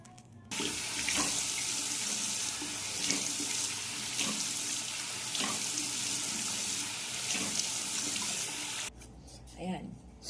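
Tap water runs steadily into a sink while a face is washed with soap, a continuous close splashing that stops abruptly near the end, followed by brief quieter handling sounds.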